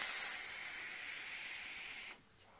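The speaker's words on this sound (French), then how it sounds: "Un bon nuage de vapeur de fumée." A vape exhales a thick cloud of vapour, heard as a steady close breathy hiss that slowly fades and then cuts off near the end.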